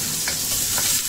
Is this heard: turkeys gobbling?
no